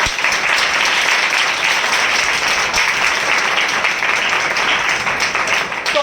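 A church congregation at a Spiritual Passion Assembly claps loudly in welcome, a thick continuous roar of many hands sustained evenly for the whole stretch, close and full with no voices standing out.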